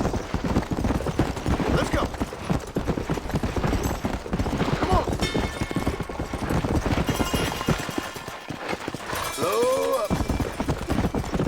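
A horse's hooves clip-clop in a rapid, steady rhythm throughout a Red Dead Redemption ride, fairly loud, with a voice talking over it.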